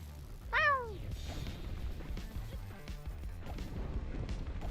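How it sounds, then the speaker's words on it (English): A single short meow rises and falls early on, fairly faint against a low background rumble with scattered soft knocks. "Thought I heard like a meow."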